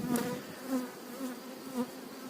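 A steady hum of honey bees buzzing close by, with the drone swelling and fading in gentle pulses.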